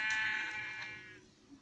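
A sheep in a survival video game gives one short, reedy bleat that fades out quickly, heard close and alone.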